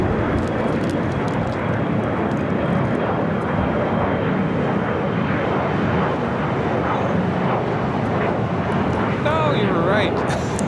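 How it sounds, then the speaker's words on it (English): A Qatar Airways airliner departing Los Angeles International Airport, bound for Doha, gives a loud, steady broadband engine roar that fills the whole stretch, with voices talking over it. "The big Q, Qatar Airways Flight 742 heading back to Doha."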